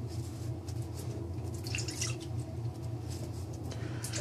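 Water is splashed and dabbed onto a face during a wet shave, giving a steady close wash of trickling and dripping with small splashes over a low background hum.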